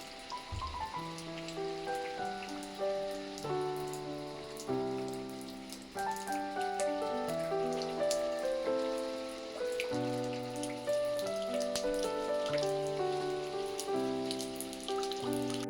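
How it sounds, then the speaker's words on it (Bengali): Steady rain pattering on a surface during a monsoon day, a soft continuous wash that sits beneath melodic background music throughout. "ভালোই বৃষ্টি হচ্ছে।"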